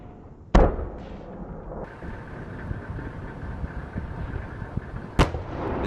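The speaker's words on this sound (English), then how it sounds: "He fires his first shot from a distance." A Ukrainian Abrams tank cannon fires at a building, giving two sharp, heavy blasts several seconds apart over a continuous low engine rumble.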